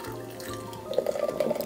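Thirty-year-old Pepsi poured out of its container, a soft liquid trickle that turns into a clearer splashing pour partway through, close and fairly quiet, with no voices.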